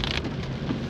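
Continuous rain falling near the landslide-hit Delhi-Manali highway close to Pandoh, a brief steady hiss of rainfall close by with no voices.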